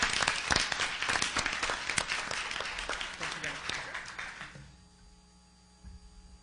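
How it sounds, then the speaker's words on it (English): Audience applause at a Gallup McKinley County Schools board of education meeting, honoring recognized students: steady dense clapping for about four seconds that thins out and fades to room hum, with a faint voice near the end. "So one more big round of applause for them."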